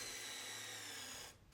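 A power drill with a bit that needs no pilot hole bores into wood during a mid-century modern furniture makeover, one steady high whine running for over a second and then cutting off abruptly.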